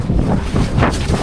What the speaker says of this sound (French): Attends, là je crois qu'il y a du vent.